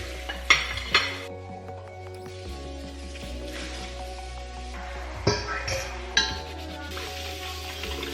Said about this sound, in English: I will throw all of the silverware into a cup and let them start soaking